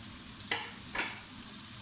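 Spices going into meat frying in a pan, a quiet continuous sizzle with two brief, brighter bursts of crackle a moment apart.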